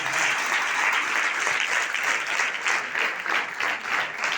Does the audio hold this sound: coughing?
no